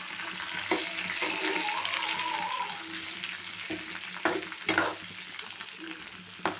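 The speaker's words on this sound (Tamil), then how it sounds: "உப்பு சேர்த்துட்டு நல்லா கிண்டி விட்டுருவோம்" Tomatoes with salt fry in a pan for tomato chutney, a constant soft sizzle with intermittent sharp spoon knocks and stirring scrapes near the end, fairly quiet and close.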